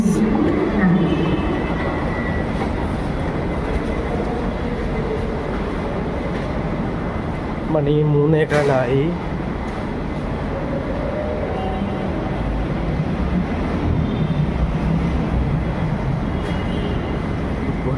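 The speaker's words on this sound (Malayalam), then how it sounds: "ഒരു ട്രെയിൻ പോയി ഗൈസ്" A metro train passes through a station, a loud, sustained rumble and roar of wheels and motors lasting the whole stretch, with a brief squeal partway through and faint speech underneath.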